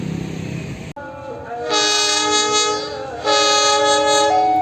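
A loud passenger train horn blares in two long sustained blasts at an Indonesian railway station, preceded by a low rumble and a brief cut.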